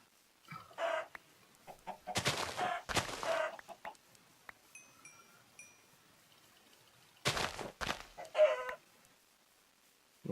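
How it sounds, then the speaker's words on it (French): Large flock of chickens in a video game, clucking and squawking in several loud bursts separated by quiet gaps. "la masse de poulets"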